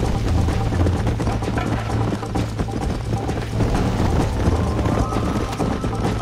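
Horse hooves gallop in a rapid, continuous drumming during a race in the video game Red Dead Redemption, with dense rumbling game sound layered throughout.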